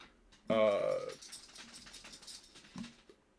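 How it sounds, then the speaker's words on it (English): A dog shakes its head nearby, a brief rattling burst, followed by softer movement and a faint jingle of a collar. "that's my dog shaking her head out there in the living room"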